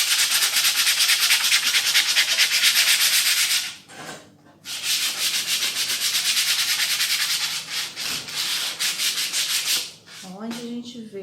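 A wooden crate is sanded by hand in a crafts class. Rapid rhythmic scratchy rubbing strokes are close and loud, with one brief pause midway and a short break near the end.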